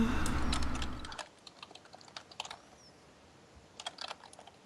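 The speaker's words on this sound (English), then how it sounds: "Look, typing. I hear typing." Keys clatter on a computer keyboard in short, quiet bursts of tapping, faint and slightly distant after a brief swell of louder background noise at the start.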